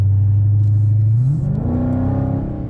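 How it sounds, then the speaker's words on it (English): A Dodge Charger revving, its exhaust note starting as a loud steady low drone, then climbing smoothly in pitch as the engine spins up, close and unaccompanied by talk. "exhaust note out of this vehicle"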